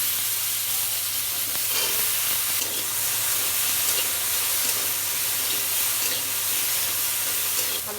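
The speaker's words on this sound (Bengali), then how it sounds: "আলুগুলো হালকা ভেজে নেব" Potatoes fry lightly in hot oil in a wok, with dried fish added alongside, giving a steady close sizzle and crackle throughout, with occasional stirring scrapes and no talking.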